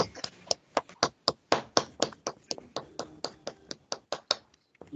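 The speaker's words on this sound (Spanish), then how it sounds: "Abramos nuestros micrófonos y le demos un fuerte aplauso" Participants in an online session clap into their open microphones, a sparse, uneven patter of individual hand claps from a few people, close and crisp, lasting several seconds.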